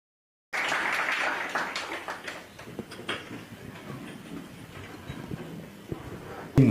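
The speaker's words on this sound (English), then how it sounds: "let us give them a round of applause" Applause from the audience at a book launch, loudest at the start and then thinning into scattered claps and background noise.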